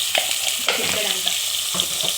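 Spoon stirring rice with ginger-garlic paste and turmeric in a pot on the stove for a simple vegetable biryani, giving a steady sizzle with a few scraping strokes close up.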